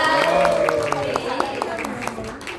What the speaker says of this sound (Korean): 큰 박수로 에너지 나눠주십니다.